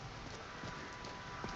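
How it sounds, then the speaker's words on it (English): Steady rain pours down in Skyrim, a continuous hiss of downpour filling the clip with a dense, even wash of drops and no talking. "if this downpour goes on much longer"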